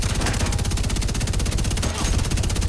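Rapid automatic gunfire from a weapon in The Division 2, a dense, continuous stream of loud, close shots with no break across the clip.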